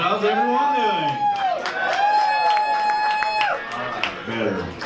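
A comedy-show crowd at a Jax Beach wine bar cheers, whoops and claps for a comedian, a loud, sustained burst of voices with raised shouts layered over scattered applause.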